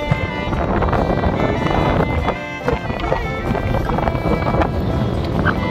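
Strong wind roars and buffets the microphone in a continuous rushing wash, with faint background sounds beneath.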